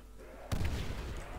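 A grenade goes off in a Call of Duty custom zombies map, a single deep boom that hits sharply and then rumbles out over a steady low game drone.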